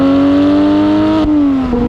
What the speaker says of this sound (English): This one's fitted with a Soul performance exhaust.